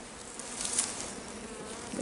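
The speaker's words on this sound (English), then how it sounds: "There seems to be fewer bees in the top of the box than in the others." Honey bees buzz steadily around a beehive being inspected, a dense and continuous drone of many insects close by with no voices.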